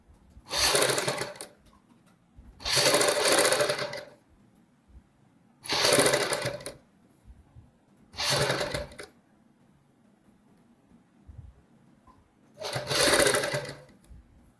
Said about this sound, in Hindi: ये पट्टी रखते हुए सिलाई लगाएंगे